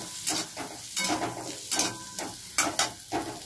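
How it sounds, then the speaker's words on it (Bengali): Onion cubes sauté in butter in a pan for bhindi do pyaza and are stirred at intervals, so a soft sizzle swells into several close scraping surges about once a second, with no talking. "প্রথমে আমি দিলাম পেঁয়াজের কিউবগুলো একটু সটে করে নেব মাখন দিয়ে"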